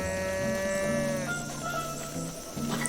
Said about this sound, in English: You cannot ride a cow.